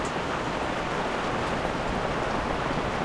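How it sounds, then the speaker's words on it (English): Steady rain pours down on a sailboat at anchor in Western Australia, a dense, continuous hiss of drops drumming on deck and water, close and even throughout with no voices. "Well, that's it, the rain's in."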